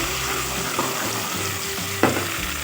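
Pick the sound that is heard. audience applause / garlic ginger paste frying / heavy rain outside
garlic ginger paste frying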